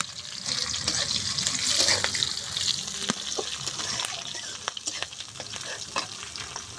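Whole spices, bay leaf and dried chilli frying in mustard oil, giving a steady crackling sizzle with sharp pops and occasional stirring clatter, close and moderately quiet.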